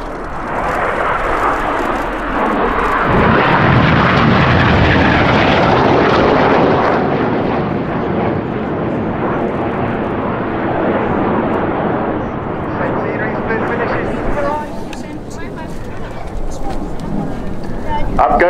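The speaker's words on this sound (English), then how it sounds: "there go the seven jets, watch for synchro with the red and blue smoke" Seven display jets pass overhead at Yeovilton Air Day 2018, a loud swelling roar that peaks and slowly fades, with an announcer speaking over it.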